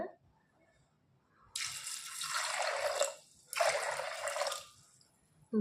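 Water poured in two bursts, each a couple of seconds of splashing into a container with a short pause between, fairly close and otherwise quiet.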